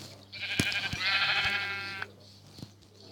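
A single sheep bleats in a long wavering cry in Minecraft, close and clear, with a few soft clicks and taps around it.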